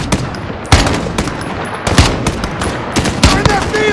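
Rapid automatic gunfire from Call of Duty: Modern Warfare (2019) during a field firefight at an embassy mission, with several loud close bursts and sharp single shots over a dense battle din.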